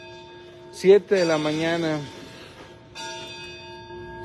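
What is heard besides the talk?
church bells ringing for mass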